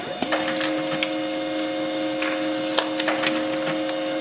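Pantum M6559NW laser printer running a print job, giving a steady mechanical whir with a sustained tone and scattered clicks and ticks throughout.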